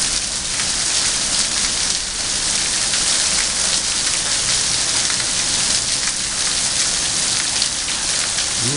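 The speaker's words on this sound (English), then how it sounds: "There it is on the roof of the carport." Hail and heavy rain pelt a carport roof during a Dallas–Fort Worth hailstorm, a loud, unbroken rattling hiss that holds steady throughout with no talking.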